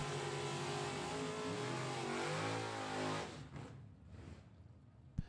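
A 1966 Chevy Nova and a Mustang drag race, engines roaring loud and high as they accelerate down the strip, then fading away after about three seconds, leaving a quieter distant drone and a short final thump.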